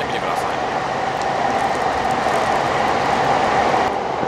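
Train rolling through a long tunnel in Gunma toward Doai station, a dense steady roar with rumbling wheel noise, close and continuous for the whole stretch.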